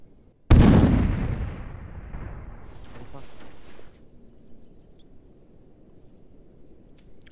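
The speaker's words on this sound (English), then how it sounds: "I'm gonna toss a grenade" A grenade detonates in a first-person war video game: one loud, close blast with a booming low rumble that decays over several seconds, followed by faint scattered crackling and ambient background.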